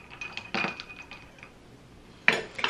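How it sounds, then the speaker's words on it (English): A spoon stirs a sugar cookie syrup and milk drink in a glass, giving two short clusters of light clinks and scrapes, close and fairly quiet, with no talk. "Give this a quick little stir."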